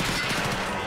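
Sustained spray from a 60-round rifle in Escape From Tarkov Arena, a brief, dense stream of rapid shots, fairly quiet and somewhat distant, with no pauses.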